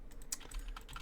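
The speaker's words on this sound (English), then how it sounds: "I'm just pressing buttons on my keyboard in order to remember the thing." Rapid, steady keystrokes clatter on a computer keyboard close up, with no voices.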